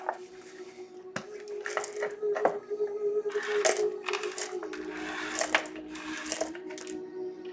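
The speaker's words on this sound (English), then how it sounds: "Do you want me to roll the dice again?" Dice rolled during a late-night channeling reading, giving several sharp clattering rattles and bounces in bursts over a steady low hum, fairly close and moderately loud, with no talking.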